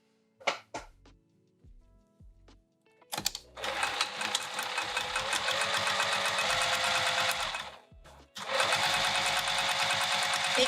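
Sewing machine edge stitching the long edge of a bag handle strap: a few short isolated thunks and bursts, then long steady high-speed runs of rapid stitching with a brief pause, close and clear, alone.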